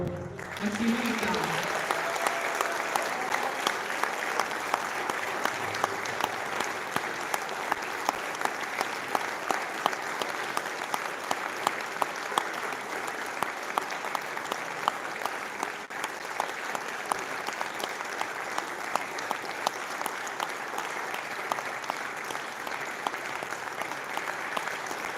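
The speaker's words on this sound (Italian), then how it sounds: "Applauso" An audience applauds a military brass band, the Alpine brigade fanfare in Palmanova, with sustained dense clapping that continues steadily throughout, with a few louder claps standing out.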